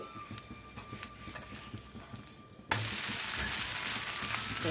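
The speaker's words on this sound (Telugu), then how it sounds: "ప్లెయిన్ దోశ వేస్తున్నానండి" Plain dosa batter hits a hot pan and bursts into loud, steady sizzling partway through, continuing as a close, dense frying hiss with no talking.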